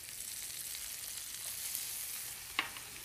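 Artichoke hearts dropped into a hot pan after the excess oil is drained, giving a steady close sizzle with a brief sharp clack near the end.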